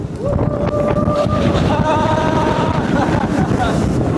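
A SeaWorld roller coaster rides into a tunnel, a loud continuous roar of wheels on track and rushing wind with rising whines, close to the rider.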